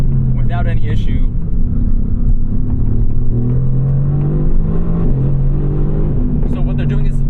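Exhaust drone from a 2018 Mercedes-AMG GT R twin-turbo on the move, a steady, close engine hum with slight pitch shifts running beneath someone talking throughout.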